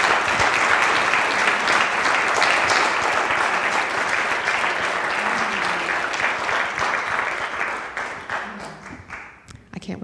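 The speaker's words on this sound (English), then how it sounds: "Let's give her a big round of applause." Sustained audience applause welcomes a woman to the stage at a live event. It is loud and dense for about eight seconds, then thins and fades toward the end, with a few scattered voices mixed in.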